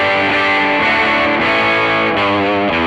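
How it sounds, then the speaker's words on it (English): Jerry Cantrell Les Paul Custom Prophecy electric guitar in coil-split mode, played through a distorted amp with chorus-like effect: loud, sustained chords changing every half second or so, with no talking. "this will give you a coil splitting sound"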